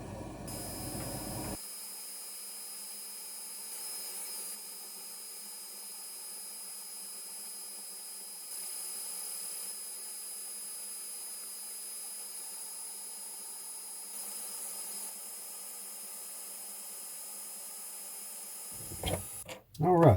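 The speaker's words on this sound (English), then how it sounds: "The exhaust fan I'll leave on, and we'll run the side with no air." A steady laser cutter exhaust fan hum runs continuously at an even level, with a brief clatter of handling noise right at the end.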